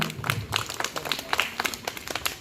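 A short burst of clapping from a small gathering welcoming the corporator at a Sankranthi muggulu competition in Sainagar colony, brisk scattered claps, close and moderately loud.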